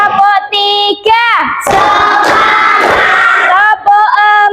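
Classroom children perform a rhythmic clapping cheer, chanting in unison with a loud burst of rapid clapping and shouting in the middle before the sung chant returns.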